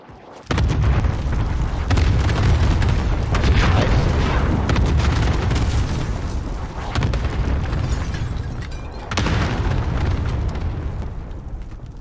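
Airstrike explosions in Call of Duty Warzone: heavy booming blasts erupt abruptly and rumble on, with repeated deep impacts and a second surge of detonations later, loud and close, without speech.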